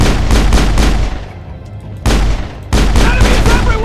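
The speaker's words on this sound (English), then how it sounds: "Accuracy on this pistol is so bad." Repeated pistol shots from the video game Mass Effect, loud dense bursts of gunfire with a brief lull in the middle before firing resumes, backed by in-game combat noise.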